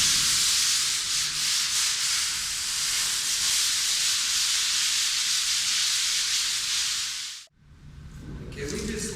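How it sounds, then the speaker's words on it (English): A sanding pad rubs across stairs coated with a powder-finish microcement floor, making a continuous loud abrasive hiss that stops abruptly near the end, leaving quieter scraping. "I'm using my sanding pad"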